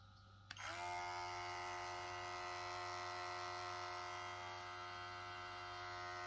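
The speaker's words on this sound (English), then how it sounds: "And this is the foil shaver." A VGR V338 electric foil shaver switches on with a click and runs at its lowest speed steadily with a bright, even buzzing hum close by.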